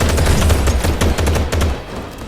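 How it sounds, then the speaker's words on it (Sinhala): Police fire on the player in GTA 5: dense, rapid automatic gunfire rattles in loud, continuous bursts, close and alone with no talk, before easing off at the end. "පොලිසියෙන් මගේ පස්සෙන් ඇවිල්ලා මට වෙඩි තියනවා"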